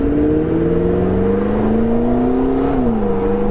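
A McLaren 650S Spider's engine and exhaust hum steadily while driving, the tone climbing gradually in pitch before easing slightly near the end, loud and close throughout with no talking.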